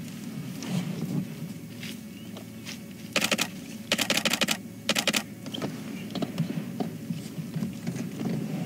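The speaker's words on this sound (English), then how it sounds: "you hear that clicking. Don't worry, that's just me taking a few photographs" Rapid bursts of camera shutter clicks from photographs being taken on a sunrise drive safari, several quick clusters of sharp clicks close by over a quiet outdoor background.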